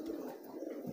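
A pigeon coos softly at a domestic loft where hens are kept for breeding, a low steady murmur running through the whole second with no talk over it.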